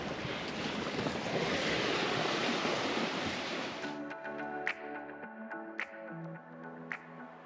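Surf washes onto a private beach beside a seafront campsite on the Ningaloo Coast, a broad steady roar that fades after a few seconds into quieter ambience with a few faint clicks.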